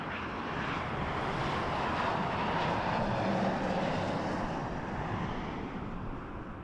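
A Jazz airliner takes off from runway 23 at Toronto Pearson, its jet engines a loud, steady broadband roar that swells slightly and then eases as it climbs away.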